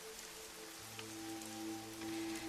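Steady rain falls continuously, a dense even patter with no voices or other sounds over it.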